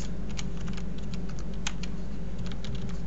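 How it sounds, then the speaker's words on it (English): Someone typing an IP address on a computer keyboard at a Windows Server desk, a steady run of quick, light key clicks, close and alone. "type in the IP address"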